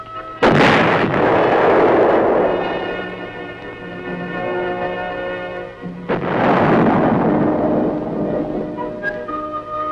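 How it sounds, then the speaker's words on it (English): Large tank gun firing during armored vehicle testing at Aberdeen, two huge booming muzzle blasts a few seconds apart, each with a long rumbling decay, very loud and with no other sound. "With a gun as large as this, muzzle blast is a potential source of damage and a hazard to the crew."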